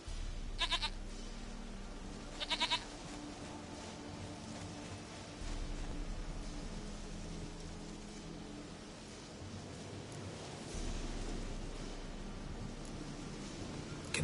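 In a video game, a goat gives short bleats, a couple near the start and more later, over a constant low hum of game ambience.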